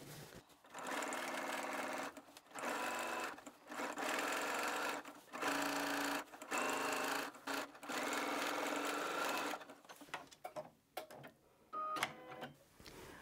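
A domestic sewing machine understitching a dress seam from a corner toward the notches, running loud and close in steady whirring bursts separated by brief pauses, with shorter stop-start stitching at the end.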